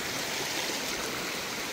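Water flows steadily in a stream outdoors where dogs have found it, a continuous broadband rush and babble with no talk over it.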